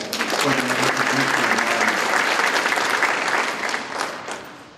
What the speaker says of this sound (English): so that is too deserving of a round of applause